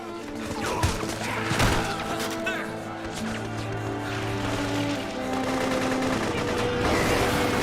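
Gunfire in the Metal Gear Solid 4 video game, sporadic shots and bursts over a dense battlefield soundscape with steady music and ambient noise, a sharp crack near the start and more scattered hits throughout.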